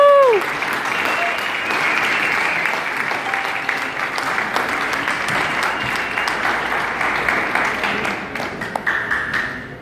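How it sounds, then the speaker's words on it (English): Audience applause welcoming Gedale Fenster to the stage at an Emuna is our Future event, a dense, sustained wash of clapping from a large crowd lasting throughout, with a few brief higher tones near the start. "Guys, everybody please give him a big round of applause"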